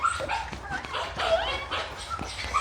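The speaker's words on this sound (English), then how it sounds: "This is all you hear, the crying and the whimpering." A mini poodle whimpers and cries in short, high, strained bursts during a grooming session, the distressed yelps repeating closely over a steady background hum.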